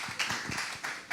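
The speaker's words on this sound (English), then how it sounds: "Can we have a round of applause for Twiggy, please?" A studio audience applauds a guest at a festival talk, a few scattered claps rising in short bursts over about a second, fairly quiet and without speech.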